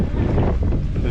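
Cold wind buffeting a microphone outdoors in Crimea near Feodosia, a steady low rumbling roar filling the whole moment without any voice.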